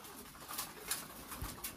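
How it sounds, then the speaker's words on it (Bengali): Lahori pigeons at a pigeon farm cooing softly, a few faint, close coos over quiet ambient noise, with no talking. "এখানে অনেক কবুতর আছে।"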